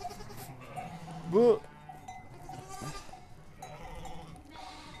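Sheep and lambs bleating in a pen, with one loud, close bleat standing out among fainter calls, while people talk over the animals.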